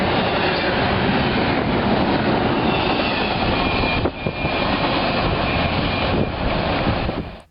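A train rushes past very close, filmed on an old point-and-shoot camera, giving a loud continuous roar of wheels and cars with a sharp clatter partway through before it cuts off abruptly.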